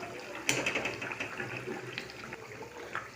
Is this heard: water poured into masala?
yes